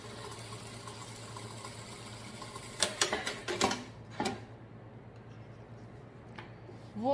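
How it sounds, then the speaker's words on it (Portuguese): A sewing machine runs a safety seam along the edge of striped fabric, giving a short, faint burst of quick mechanical clicking and whirring over a quiet background hum. "vou passar aqui uma costura de segurança bem na beiradinha"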